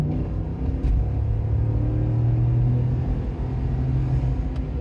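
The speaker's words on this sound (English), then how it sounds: "The engine noise on this is phenomenal" A 2022 Ford F-150 XLT truck with a 5.0L V8 accelerating on the road, its loud, deep engine rumble and exhaust droning steadily with rising pitch, heard from inside the cab with no talking.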